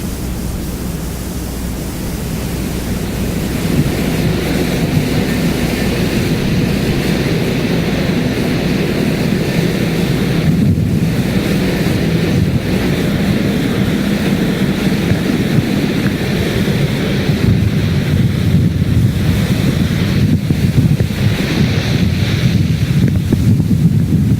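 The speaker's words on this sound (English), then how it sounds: "You're looking at a very angry sea right now." Rough seas in the Drake Passage heard from a ship's bridge: a continuous, loud roar of wind and crashing waves against the hull, steady and broadband throughout with no talking.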